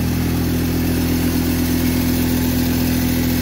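Massey Ferguson GC2310 compact tractor running steadily on its hydrostatic drive, a loud, close, continuous engine drone with a constant mechanical hum and no change in pitch throughout.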